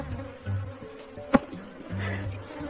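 Africanized honey bees of an aggressive strain buzz in a steady close hum, with a single sharp tap or knock partway through.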